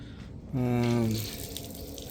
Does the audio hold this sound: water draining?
yes